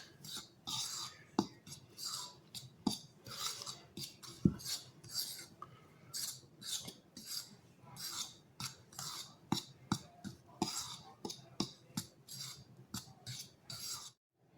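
Flour, salt and dried chives stirred together in a bowl for onion buns, giving steady soft scraping and clinking strokes with occasional sharper taps, close and fairly quiet throughout.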